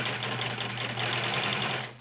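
A Kenmore model 1516 sewing machine stitches through 12 layers of cotton with a size 16 needle, running at a steady fast whir with a fine rapid needle rhythm, close and continuous.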